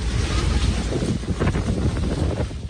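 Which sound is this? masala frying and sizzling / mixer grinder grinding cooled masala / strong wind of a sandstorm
strong wind of a sandstorm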